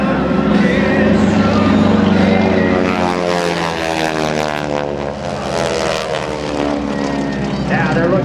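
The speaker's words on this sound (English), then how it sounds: "Number two and number three ship doing an opposing loop as they come head on to one another from the left and from the right." Aerobatic propeller airplanes of a display team fly an opposing head-on loop at an air force base open house airshow, their engines droning loudly and steadily with a shifting pitch while an announcer talks over them.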